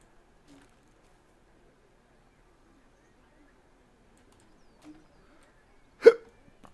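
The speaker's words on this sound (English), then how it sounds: "I have hiccups." A single sharp hiccup sounds close and clear after near silence, with a couple of faint gulping hiccup-like catches before it.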